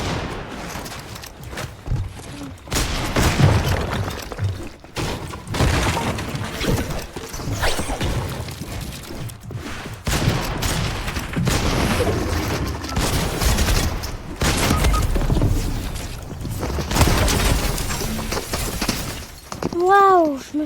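Gunfire in a video game: dense crackling volleys with shattering impacts roll on continuously, loud and busy, with a player's voice mixed in.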